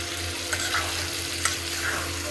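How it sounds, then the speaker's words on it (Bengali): Poppy seed paste being stir-fried in a pan, a steady close sizzle with a few soft scrapes of a spatula at intervals and no voices. "পোস্তটা কষানো চলতেছে, কষাই দিচ্ছে।"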